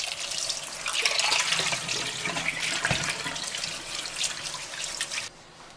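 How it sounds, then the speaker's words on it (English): Catfish being rinsed under a running kitchen tap, a continuous splashing water stream with small clatters that stops abruptly near the end. "So I'm going to wash my catfish now. So I will wash and remove the blood out."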